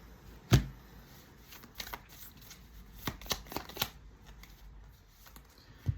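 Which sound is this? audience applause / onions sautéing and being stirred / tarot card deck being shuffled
tarot card deck being shuffled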